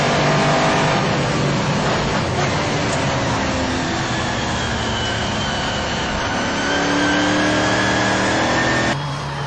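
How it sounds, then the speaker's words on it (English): A Ford Falcon race car engine, heard on board at Silverstone, revs loudly and continuously, roaring through gear changes at close range with no talk over it. "Great sound from that car."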